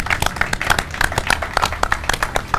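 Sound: applause

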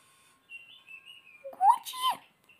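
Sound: lovebird parrot chirping

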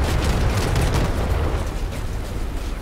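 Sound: Mandrake weapon firing and exploding in video game Crossout

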